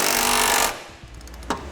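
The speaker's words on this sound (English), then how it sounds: "We'll tighten up all of our hardware." An impact wrench or power tool drives hardware home with a 19mm socket while fitting a Curt trailer hitch receiver to a 2010 Pontiac Vibe; a loud buzzing burst runs for under a second, then stops, followed by a short clank.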